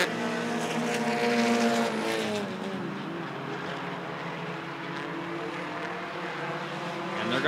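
Bandits-class race cars at Rockford Speedway roar past, a loud engine whine that sweeps down in pitch as they pass, then settles into a continuous distant drone of several cars circling the oval.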